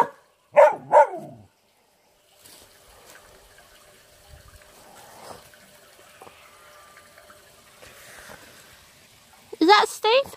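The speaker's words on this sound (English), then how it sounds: "I don't know if he likes the barking." A dog gives a few sharp barks up close, followed by quiet background noise, then another short burst of barking.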